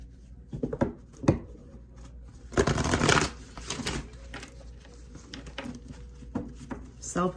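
Tarot cards are handled and shuffled in short papery riffles and taps, one longer dense shuffle in the middle, with a person talking softly between them.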